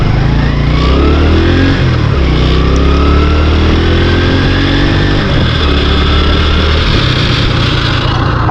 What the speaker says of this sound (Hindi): मेरी मोटरसाइकिल से भी आवाज़ें आना शुरू हो चुकी हैं